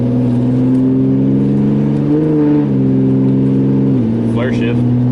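A 2012 Cummins diesel truck engine drones steadily with tonal whine, then its revs jump and hold briefly before dropping back during a transmission flare shift, loud and close throughout.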